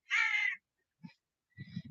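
A crow gives one loud, harsh caw close by, followed by a few faint, low, muffled sounds.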